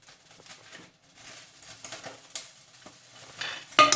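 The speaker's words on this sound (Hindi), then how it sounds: "आयल में फिर हम दालचीनी, छोटी इलायची, बादिया खताई, काली मिर्च और लौंग डालेंगे।" Whole spices (cinnamon, green cardamom, star anise, black pepper and cloves) sizzle in hot oil with a faint, uneven crackle, broken by soft stirring scrapes and light clinks of a utensil against the pan.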